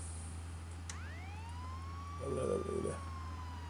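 A police car siren in the video game Contraband Police lets out a single sharp rising wail over a low, constant engine hum, followed by a short rumble.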